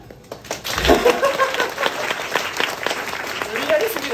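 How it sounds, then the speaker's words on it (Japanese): Concert audience applauding during an encore show in Hiroshima, a dense wash of clapping that swells near the start and holds steady, with a few voices and cheers mixed under it. "無理やりすぎるわ、拍手させるの は。"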